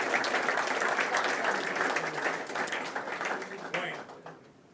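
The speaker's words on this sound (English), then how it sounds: "give an applause for that" An audience applauds in a steady wash of clapping that thins and tapers off toward the end, with some voices underneath.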